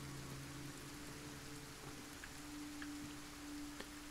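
Steady rain hisses across a rainy coastline in the game Kenshi, a dense, even wash of falling drops with a faint low hum underneath and no distinct pauses.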